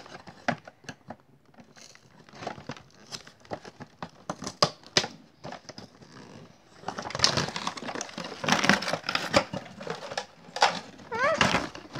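Something is cut off a package amid close plastic crinkling, sharp snipping clicks and tearing, getting busier and louder in the second half, with faint voice sounds in places.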